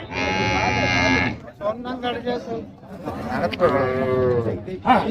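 Cattle at a traditional market in Manapparai give two long, loud, drawn-out moos, with lively human voices and crowd bustle running around and between the calls.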